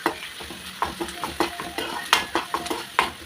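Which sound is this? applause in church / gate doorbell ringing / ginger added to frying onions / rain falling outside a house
ginger added to frying onions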